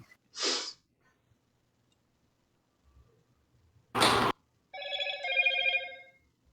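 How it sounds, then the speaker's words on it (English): A notification alert chimes as a stream goes live: a short burst, then a brief broadband hit, then a sustained harmonic ringing tone near the end, fairly loud in a quiet room. "that was my notification that we went live"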